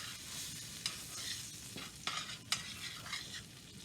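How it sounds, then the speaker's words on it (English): Butter melts and sizzles in a pan as it is stirred, giving a soft steady frying crackle broken by a few sharp scraping clicks of the utensil, fairly quiet and without speech. "Got to melt down the butter."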